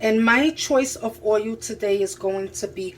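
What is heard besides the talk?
No everyday noise stands out behind the speech.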